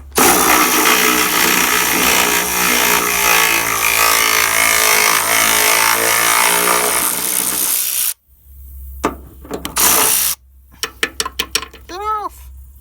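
A new Milwaukee cordless ratchet drives bolts on a truck cab, a loud continuous high-pitched motor whine lasting several seconds, then stopping, followed by short ratcheting bursts and clicks.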